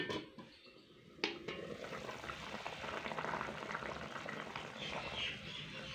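Onion and tomato simmer in a covered pot for an egg curry, a steady bubbling hiss that runs the whole time, with a sharp lid clink near the start and no talking.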